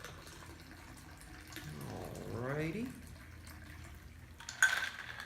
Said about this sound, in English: we're going to pour that right in there